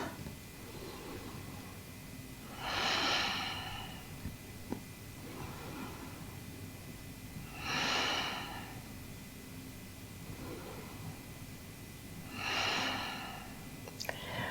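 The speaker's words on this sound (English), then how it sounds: "So we're just going to take 3 natural breaths at your own pace." Three slow, unhurried breaths during a Yin Yoga class, each a soft airy exhale swelling and fading at even intervals of about five seconds, close and quiet against a faint room hum.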